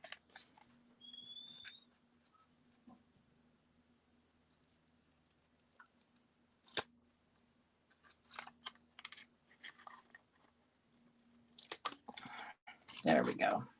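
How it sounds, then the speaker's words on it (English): Several short bursts of scissors snipping paper, crisp cuts coming in quick clusters between quieter pauses, close by. "I'm going to trim this with my scissors."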